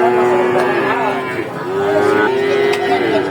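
A Holstein Friesian cow moos loudly and nearby at a livestock market, a long drawn-out call that dips briefly, then resumes in a second sustained low bellow.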